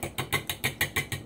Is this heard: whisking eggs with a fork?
yes